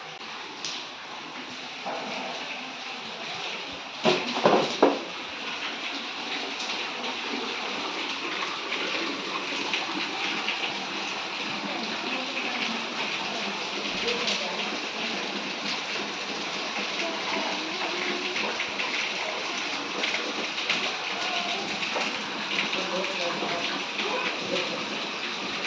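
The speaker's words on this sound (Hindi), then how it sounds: "कितनी बारिश हो रही है आज।" Heavy rain falling outside, a steady dense hiss of downpour heard continuously, with a brief louder burst of splashing or clattering early on.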